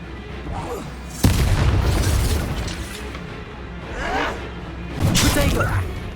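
Sharp explosive blasts from the Confringo spell in Hogwarts Legacy, a sudden loud boom followed by rumbling debris, then further bursts a few seconds later during combat.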